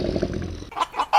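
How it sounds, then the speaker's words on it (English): A chicken gives a few short clucks, preceded by a brief burst of other sound; close and fairly loud, with no talking. "chicken,"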